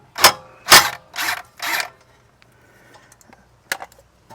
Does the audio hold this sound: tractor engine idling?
no